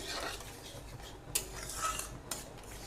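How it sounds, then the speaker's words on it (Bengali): Sugar being stirred into a tomato and date chutney over low heat, soft scraping of a spoon against the pan with a couple of brief metallic clinks, quiet and close, no voices. "চিনিটা দিয়ে আবারও নাড়বো এবার একটু ঢিমে আঁচে করছি"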